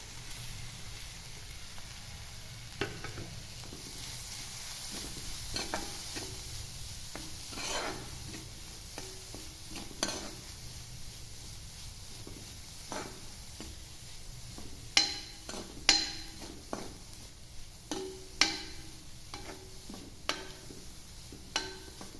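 Onions sautéing with grated coconut in a pan: a faint, steady hiss broken by scattered clicks and scrapes of a spoon against the pan, growing busier toward the end, close by with no voices.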